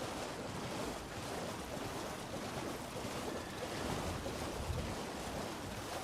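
A waterfall in the video game Elden Ring gives a steady, even broadband roar that is moderately loud and continuous, with no talking over it.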